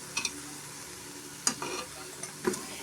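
A spoon stirs cooked dal and turmeric into simmering sambar, with a few soft scraping strokes against the pot over a faint low sizzle, close and quiet.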